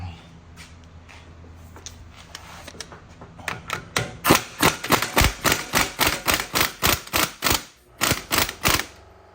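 An impact wrench hammers on the front hub of a 2015 Cadillac SRX in a rapid series of loud, evenly spaced bursts that start after a quieter stretch and run close to the microphone, with brief pauses between them.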